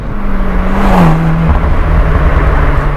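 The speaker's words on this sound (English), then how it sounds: "It's got the same pops and bangs as a road car." A VW Golf GTI Clubsport S front-wheel-drive race car drones steadily at close range, its engine note dipping briefly as it shifts, with a few faint exhaust crackles under the continuous roar.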